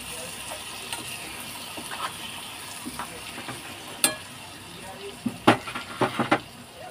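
A spoon stirs batichorchori, a Bengali fish dish, as it sizzles in a pan over low flame. A steady frying hiss runs throughout, and scraping knocks and clatters get sharper and louder toward the end.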